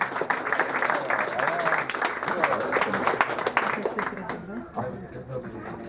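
Brief applause at a charity running event summary, heard under and alongside continuing talk, fading toward the end.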